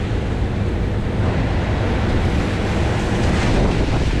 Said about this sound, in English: it's crazy windy.